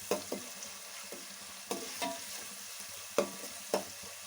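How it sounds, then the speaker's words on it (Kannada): Onions fry in a pan with salt for street-style fried rice, a quiet background sizzle punctuated by sharp scraping and tapping strokes of a spatula stirring them, close and without speech. "ಉಪ್ಪು ಹಾಕಿದ್ರೆ ಸ್ವಲ್ಪ ಬೇಗನೆ ಈರುಳ್ಳಿ ಫ್ರೈ ಆಗುತ್ತೆ"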